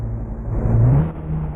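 A car engine revs up with a rising, rumbling pitch, peaks, then settles back toward a steady idle. The sound is close and fairly loud, and no one speaks over it.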